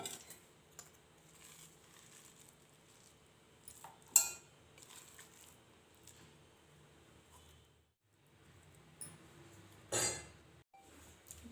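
Coarsely ground lentil mixture for laddu is scraped and tapped into a bowl, giving quiet metallic scrapes, clinks and a few sharper knocks, with a brief silence partway through.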